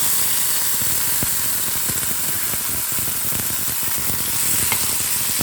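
Curry leaves and spices fry in hot oil with a dense, loud hiss, and occasional soft stirring knocks sound underneath; close up, with no voices.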